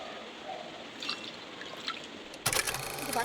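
Water drips and trickles while a small Gopal deity idol is bathed during a home puja, faint scattered droplets followed by a louder splashing pour near the end, with no talking.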